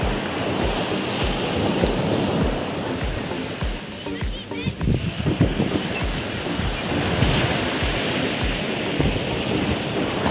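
Steady roar of ocean surf washing onto a beach, with gusts of wind buffeting the microphone and faint voices in the background.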